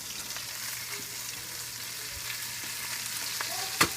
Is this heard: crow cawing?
no